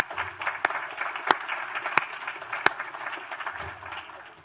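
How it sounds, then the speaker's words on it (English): Scattered audience applause at a Law Day public program hosted by the American Bar Association, a few sharp claps standing out over a thin, steady patter that carries on for several seconds. "Let's give him another round of applause."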